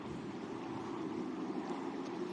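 A racing powerboat at the New Orleans Powerboat Grand Prix passes by, its engine a steady, dense roar with wind and water noise, holding constant and fairly distant throughout.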